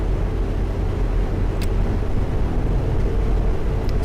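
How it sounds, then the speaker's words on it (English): A Neoplan Skyliner coach in FERNBUS Coach Simulator rolls down the road with a loud, constant low engine and road rumble, while faint creaks and groans from the bus body surface briefly over it. "just like creaks and groans as the bus makes its way down the road."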